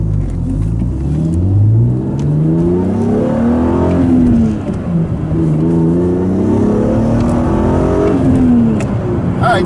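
A BMW Z3 M Coupe with the S54 engine accelerates hard, its loud engine note climbing steadily in pitch through two long pulls with a brief dip between them, close and continuous with no talk.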